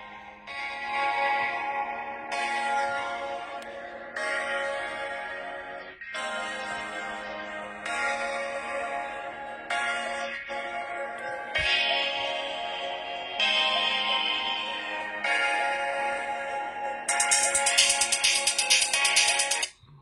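An Oukitel C19 smartphone loudspeaker plays a ringtone-like electronic tune in repeated phrases of a few seconds each, with a thin, bright, slightly distorted tone that stops abruptly at the end.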